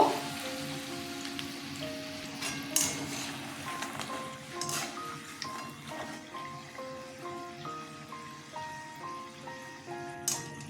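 Nimki dough strips fry in hot oil with a steady crackling sizzle, close and moderately quiet, beneath soft melodic background music.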